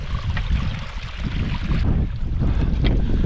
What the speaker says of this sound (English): enjoying the sound of the river.